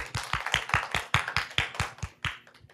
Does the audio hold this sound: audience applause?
yes